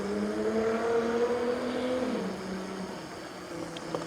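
A Subaru BRZ sports car passes on a city street in Phoenix, its engine tone holding steady then dropping in pitch as it moves away, moderately loud over background traffic noise.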